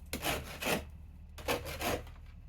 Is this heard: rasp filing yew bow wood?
yes